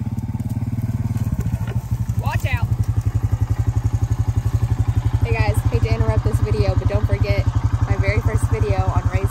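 A John Deere 333G compact track loader runs close by with a loud, heavy diesel throb and a steady pulsing rhythm, while voices talk over the engine noise throughout.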